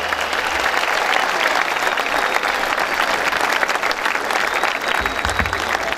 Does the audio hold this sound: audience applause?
yes